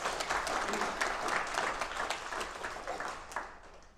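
An audience at a blockchain technology presentation breaks into applause, a broad, even patter of many hands clapping at moderate distance that swells briefly and then fades toward the end.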